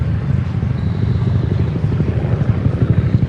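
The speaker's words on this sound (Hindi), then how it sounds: "तभी हेलीकॉप्टर की आवाज सुनाई दी।" Steady low rumbling engine drone with a rhythmic chopping pulse, continuous and fairly loud throughout, like a helicopter nearby.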